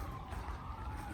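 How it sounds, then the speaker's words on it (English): Emergency vehicle sirens wail faintly in the distance, heard from a home garden as a steady, wavering tone over a broad background hum. "And what's a video from the garden without sirens?"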